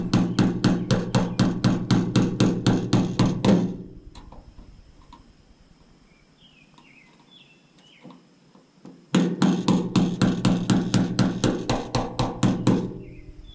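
A tool taps the lock ring tabs of a fuel pump sending unit during an LS swap install. A rapid, even run of sharp metallic knocks stops for a few seconds of faint rustling, then a second quick burst follows.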